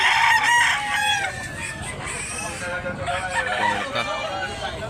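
A rooster crows loudly nearby at a chicken market in Domanjug, Cebu, its long call trailing off amid clucking and other fowl sounds, with voices murmuring in the background.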